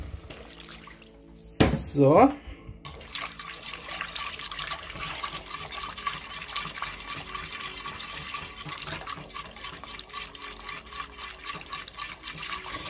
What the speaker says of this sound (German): ein bisschen können wir da noch an Wasser reingeben